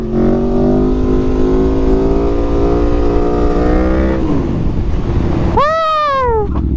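An Aprilia Tuono 1100RR motorcycle engine drones loud and close with a steady tone that slides down in pitch as the throttle eases, followed by a sharp rev blip that rises and falls, all over heavy wind rush.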